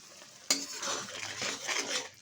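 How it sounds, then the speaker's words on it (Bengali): Spice mix and salt stirred in a pan for a fish curry with cauliflower and green tomato, a sharp clatter of spoon against metal opening a run of scraping and light clinking, with faint sizzling beneath. "খুব ভালো করে একটু মিশিয়ে নেবো এটা এবার এর মধ্যে দিয়ে দিচ্ছি লবণ"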